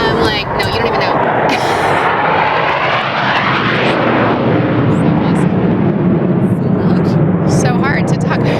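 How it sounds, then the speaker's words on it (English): Loud jet aircraft roaring overhead at a beachside air show, a sustained broadband rumble with a sweeping pitch as it passes, with voices talking underneath. "So hard to talk over the jet."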